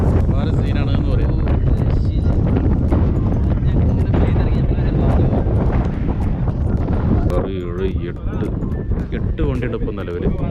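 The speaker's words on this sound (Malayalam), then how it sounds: "നല്ല കാറ്റ്, തണുപ്പ്" Strong wind buffeting on a hilltop at Nelliyampathy during offroad trekking, a loud continuous rumble of gusts across the microphone, easing a little near the end, while people talk underneath.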